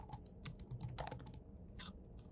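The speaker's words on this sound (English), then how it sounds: "in this search box, we're going to type our primary keyword phrase" A computer keyboard being typed on to enter a search keyword, a quick run of light, close key clicks with no voices.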